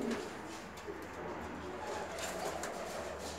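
Faint, soft cooing from Bulgarian pigeon breeds, a few low murmuring calls over quiet background hiss, heard from close by but at low volume.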